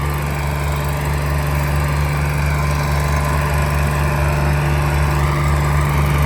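A John Deere tractor engine runs steadily, a loud, constant low drone with a deep hum and no talk over it.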